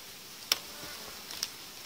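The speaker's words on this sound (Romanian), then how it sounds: "Aici avem roiul cu matca." A honeybee swarm with its queen gives a faint, soft insect buzz in a quiet setting, with a couple of brief louder buzzes passing close by.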